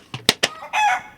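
A chicken gives a few sharp, close clucks followed by a longer squawking call, all within about a second.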